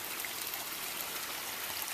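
Meltwater from a melting pond of snow and ice runs across a road in Alaska in January, giving a steady, close trickling and streaming rush with no pauses and no voices.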